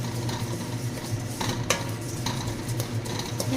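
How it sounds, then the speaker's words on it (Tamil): Sesame seeds being dry-roasted in a pan for idli podi, with steady scraping and stirring of a spoon against the metal, a faint sizzling rustle underneath and one sharp clink partway through. "பாருங்க, எள்ளு கொஞ்சம் நல்லா வறுத்தாச்சு"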